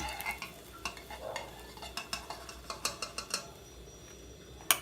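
A Thai omelet is scooped from a pan onto a plate, heard as faint scraping and light clinks of utensil on cookware over a low sizzle.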